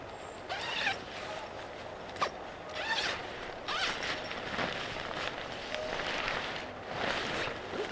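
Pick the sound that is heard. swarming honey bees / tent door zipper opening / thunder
tent door zipper opening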